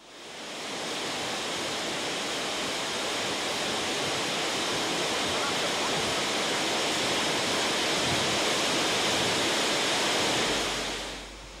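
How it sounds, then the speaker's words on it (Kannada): A small forest waterfall in the Malnad hills roars in a steady, loud, unbroken rush of falling water, with no other sounds. "ಕೋಟಿ ಕೋಟಿ ಬಿಂದುಗಳು ಕ್ಷಣ ಕ್ಷಣಕ್ಕೂ ಚೆಲ್ಲಾಡಿದಂತೆ ಕಾಣುವ ಈ ಜಲಧಾರೆಯ ಮೇಲೆ ಸೂರ್ಯನ ಬೆಳಕು ಬಿದ್ದಾಗಲಂತೂ"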